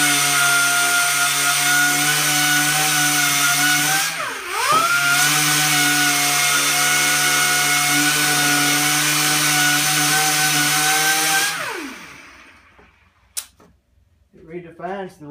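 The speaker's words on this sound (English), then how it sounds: "But then I can take the sander and sand the flat." Power sander buffing painted stair balusters, a loud steady motor whine with strong harmonic hum running continuously, briefly dipping once, then winding down near the end.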